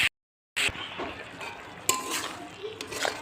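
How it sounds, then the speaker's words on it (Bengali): Okra fried with turmeric being stirred in a pan: scraping and clinking of a utensil against the pan over a soft sizzle, close by, broken by a brief silence near the start. "ভালো করে নেড়ে নেব"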